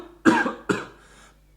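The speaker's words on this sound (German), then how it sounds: "Und ganz fürchterlich gehustet hat er." A man coughs loudly and harshly in two close bursts, followed by the start of a third after a short pause, near and clear against a quiet background.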